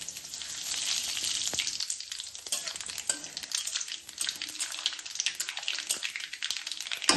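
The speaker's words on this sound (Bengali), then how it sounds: "এবার ফোড়নে দিয়ে দেবো একটা শুকনো লঙ্কা আর দেবো কালো জিরে" A dried red chilli and nigella seeds sizzle in hot oil as a tempering for spinach ghonto, a bright crackling hiss that fades slightly with scattered pops and stirring scrapes, no voices.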